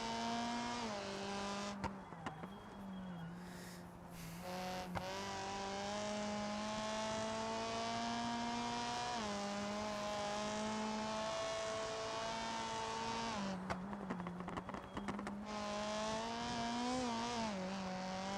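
Race car engine in the BeamNG game holding a steady high drone with smooth pitch shifts, dipping briefly twice as the rear steps out; continuous and loud throughout, with no voices.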